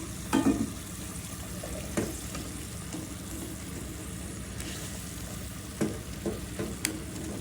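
Rui fish curry frying in a pan after a large tomato goes in, a soft steady sizzle with occasional stirring clatters and scrapes, fairly faint and close.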